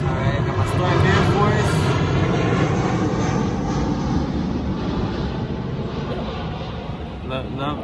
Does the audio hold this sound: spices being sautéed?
no